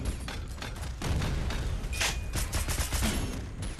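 Stationary artillery defense firing in the video game SYNTHETIK, rapid bursts of gunfire and sharp blasts in a dense, continuous barrage with mechanical clatter, loud and steady throughout.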